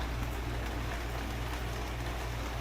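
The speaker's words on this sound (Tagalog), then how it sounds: "Hanggang ngayong umaga, naulan pa rin sa labas." Heavy rain falling outside a beachfront hotel in Siargao, a dense, steady wash of hiss and patter with no break, fairly quiet and with no talking.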